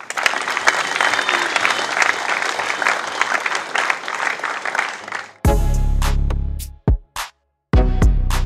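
An audience claps at an international volleyball tournament, a dense, steady burst of applause lasting several seconds before cutting off abruptly into other brief sounds.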